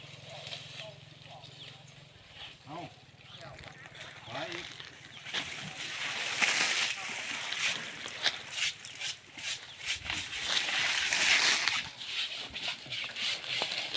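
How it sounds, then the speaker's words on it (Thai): Water splashing and sloshing as an animal is bathed outdoors near a village, uneven splashes building louder in bursts through the middle and later part, with people talking throughout and a steady low hum early on. "ดู ใครกำลังสาดน้ำด้วยนะครับ"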